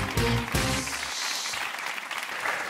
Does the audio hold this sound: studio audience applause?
yes